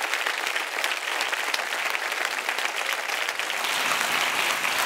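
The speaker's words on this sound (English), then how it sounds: "Please give another round of applause to Dr. Auma Obama" A conference audience applauds steadily on a forum stage, dense sustained clapping holding at even loudness for the whole stretch without pause.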